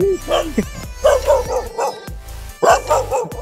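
A dog barks close by in a string of loud, short woofs with a couple of whimpering yips between them, in an outdoor lakeside setting in San Pablo City, Laguna.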